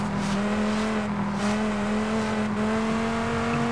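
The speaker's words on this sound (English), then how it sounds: "I can hear your car loudly." A steady, loud Viper engine drone with a sustained hum and slight revving, continuous throughout, like a car cruising in the racing game Forza.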